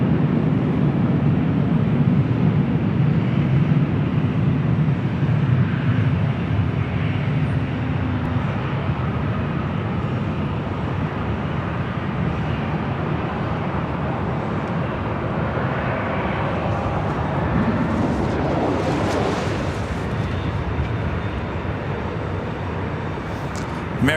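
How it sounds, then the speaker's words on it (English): American Airlines Airbus A319 taking off from runway 24 left at LAX, a steady broadband jet roar heard from the distance that swells and fades over about twenty seconds. "American Airlines flight 1719 heading to Vancouver. That's A319, next departure at 24 left."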